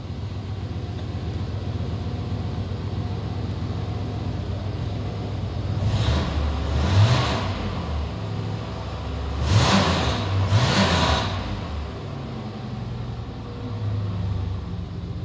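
Cadillac DeVille 4.9 liter V8 idling steadily, then revved three times in short, rising blips before settling back to a smooth idle, close and clear with no talk.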